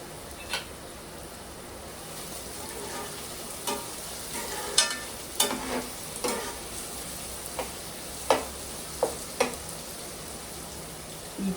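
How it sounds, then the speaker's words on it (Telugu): Onions fry in a pan for a small-fish curry, giving a steady soft sizzle broken by scattered stirring clicks and light taps. "ఉల్లిపాయ బాగా వేగాలండి"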